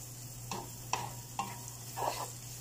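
Carrots are stirred into lumpia filling in a pan, with four distinct scraping strokes over a steady faint sizzle and a low hum.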